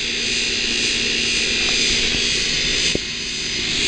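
An outdoor air conditioner compressor unit at a house runs with a steady loud droning whir and fan hum, close by, with a faint click near the end and no talk.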